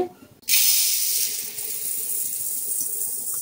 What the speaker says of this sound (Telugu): ఈ మామూలు బియ్యం, ఉడ్లు బియ్యం ఇవి బాగా నీళ్లు పట్టుకొని ఇవన్నీ కడిగేసుకోవాలి